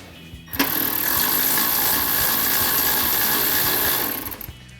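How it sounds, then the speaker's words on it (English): A power tool with a 13mm socket tightens the bolts of retractable power running boards on a RAM 1500 pickup, a single loud whirring burst of about four seconds, close by. "take that 13mm socket and tighten these down."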